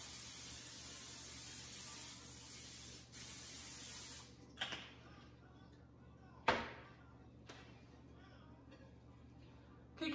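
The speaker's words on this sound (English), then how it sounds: "so I spray" Cooking spray hisses onto a cookie sheet and wax paper in a home kitchen, a few short bursts with quiet gaps between, close to the microphone and fairly soft.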